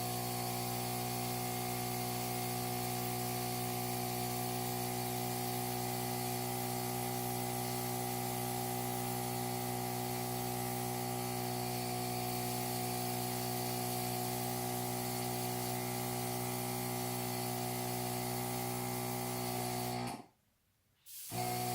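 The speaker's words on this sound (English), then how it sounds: "I already put some primer on the car and I'm just gonna give it a few coats." Spray paint coats go onto a primed Matchbox Commer Bottle Float No21c model car as a long, continuous hissing spray with a steady humming drone, cutting off abruptly near the end.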